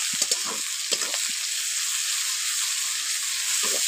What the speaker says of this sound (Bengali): হলুদ গুঁড়ো আদা রসুন বাটা দিয়ে পেঁয়াজের সঙ্গে একটু ভেজে নিচ্ছি।